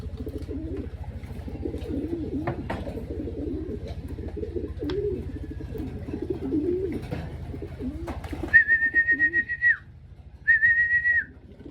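Racing pigeons coo softly in a loft in repeated low, throaty phrases, followed by two loud, sustained whistles near the end.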